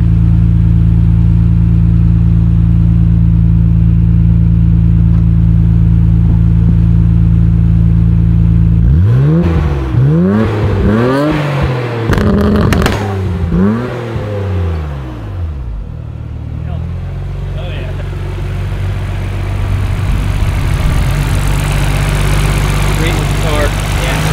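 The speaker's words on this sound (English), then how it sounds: "Mind revving up a little bit?" An HKS-tuned Skyline R32 GT-R engine idles loudly, revs up sharply several times in quick succession, then settles back to a steady idle.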